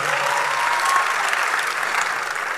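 An audience at a talk on money and relationships applauds, a dense, steady burst of clapping from many hands that fills the whole moment.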